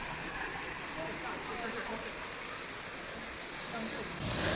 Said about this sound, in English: So this is the smaller waterfall.